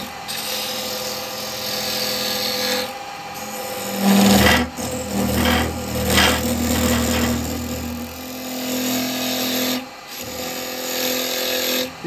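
A square carbide chisel cutting end grain on a woodturning lathe, a continuous whirring hum of the spinning wood overlaid with louder rasping scrapes as the tool bites in the middle, close and loud.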